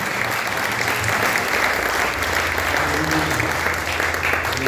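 Church congregation applauding loudly and steadily at an anniversary service, dense sustained clapping throughout with faint voices mixed in.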